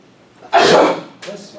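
A single sharp sneeze bursts out close by in a lecture room, followed by a short softer breath or sniff.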